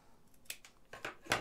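Scissors snip through stiff cardboard in three or four crisp cuts, the last one loudest, with a faint rustle between them and no talking.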